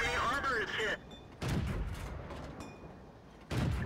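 Tank cannon fire booms in World of Tanks from an M41 Walker Bulldog, three loud blasts with roaring tails separated by quieter pauses.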